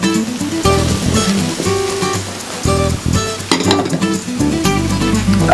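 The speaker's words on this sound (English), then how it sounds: "And let's mix it up with the rest of the ingredients" Cauliflower is stirred into seafood paella ingredients in a pan over a low burner: loud scraping and clinking of the utensil against the pan in uneven bursts over a soft sizzle.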